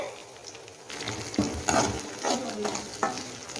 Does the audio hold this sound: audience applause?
no